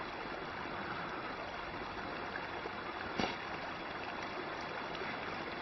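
Seawater flows at the shore as a faint, steady wash that continues throughout, with one brief splash near the middle.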